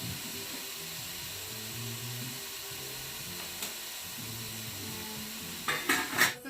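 Ground beef browns in a skillet with a soft, steady sizzle and low hiss, then a few metal clinks of a utensil near the end.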